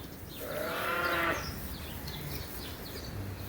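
Sheep on a sheep farm give one clear, fairly close bleat lasting about a second, followed by quieter flock and farm background noise.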